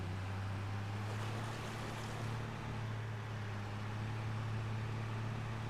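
Vehicle driving through water on a Brazilian farm map in Farming Simulator 25, a steady low engine drone with a continuous washing rush of water, even and unbroken.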